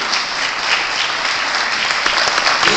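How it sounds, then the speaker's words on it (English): Audience applause at a live event as family members stand to be recognised, a steady dense wash of clapping held at even loudness throughout with no pauses. "Please a big round of applause, much bigger than that"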